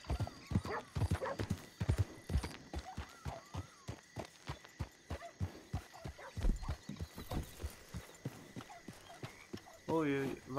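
Horse hooves clip-clop in the RedM game, a long run of sharp, uneven hoofbeats near and clear, with a whinny near the end and people talking over parts of it.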